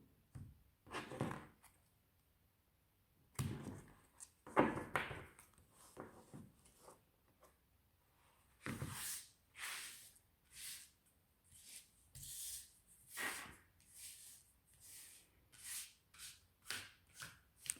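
A brand-new deck of playing cards is shuffled and cut at a table: a sequence of quick riffling bursts and soft slaps, fairly close and moderately loud, with a pause in between.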